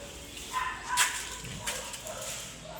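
A dog at a clean, breezy outdoor work site in Lucena City gives a single faint, short yelp or bark at a distance against quiet background noise.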